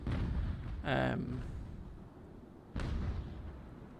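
Two heavy cannon shots from a sailing warship in the naval battle game Ultimate Admiral: Age of Sail boom out about two seconds apart, each a loud blast that rumbles away slowly over a low background roar.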